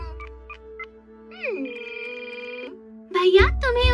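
Phone ringing in a Doraemon cartoon, with short electronic beeps followed by a sustained warbling ring. Cartoon voices speak over the end.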